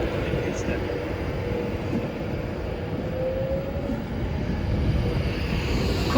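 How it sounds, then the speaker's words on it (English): Class 390 electric train 390-039 'Lady Godiva' pulls away from Warrington Bank Quay bound for Euston, a steady low rumble and rolling hum that builds gently over several seconds, with a faint rising whine near the end. "Heading off now, 390-039, Lady Godiva,"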